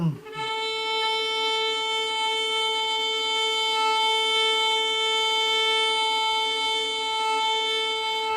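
One bowed string note held in a son filé warm-up, smooth and even for several seconds, rich in overtones, steady in loudness from start to finish.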